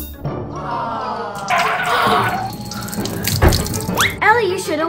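Water runs steadily from a tap into a sink during a shirt wash, a loud splashing flow with shifting pitch and a few clunks, while voices speak over it.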